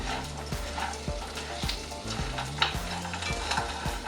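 Pork belly and garlic fry in a pan for Thai-style pad kailan, giving a steady close sizzle with repeated stirring scrapes and clinks throughout, and no talking.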